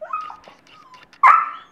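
A dog whines softly indoors, then lets out a single sharp, loud bark near the end.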